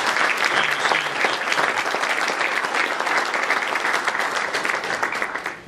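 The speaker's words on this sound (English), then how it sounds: "let's give them a round of applause" Sustained applause from a Hall of Fame ceremony audience, dense and steady clapping from a large crowd throughout, easing slightly at the very end.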